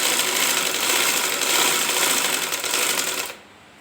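A sewing machine stitches along finely folded fabric in a steady, fast mechanical whir with a rapid needle rhythm, running loud and close for over three seconds before stopping abruptly.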